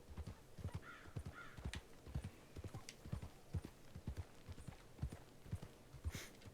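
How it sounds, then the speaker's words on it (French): Steady clip-clop of a video-game horse's trotting hooves, an even rhythmic beat with occasional faint ambient chirps in the background. "Et là, c'est mon cheval"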